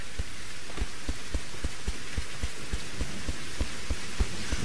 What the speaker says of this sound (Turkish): Yağmur başladı çok fena.